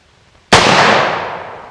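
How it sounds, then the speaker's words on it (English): A single sharp AR rifle shot at an outdoor shooting range, breaking a quiet moment with a loud, sudden crack that rings out and decays slowly over a second or so. "And then pull the trigger."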